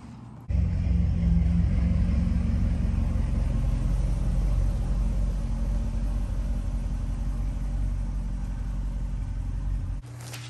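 A 2008 Corvette C6 engine rumbles steadily for about ten seconds while the car is pulled up out of a driveway, loud and close, then cuts off near the end with no talking.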